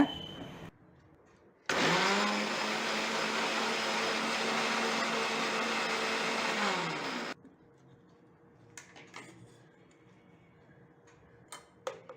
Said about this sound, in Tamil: கொஞ்சமாக தண்ணி சேர்த்து இதை வந்து நல்லா அடித்து எடுத்துக்கோங்க.